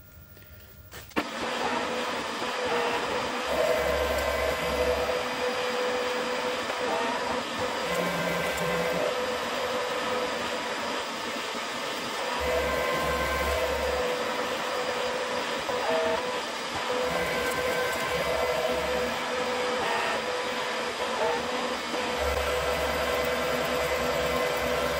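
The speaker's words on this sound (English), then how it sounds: "I'll take the remaining cuts off here and another 2 millimeter roughing cut" Steady metal machining roughing cut, 2 millimeters deep, on a shop-made angle plate, a continuous broad grinding whir that holds even and loud for the whole stretch after a sharp start, with a low periodic drone underneath and no voices.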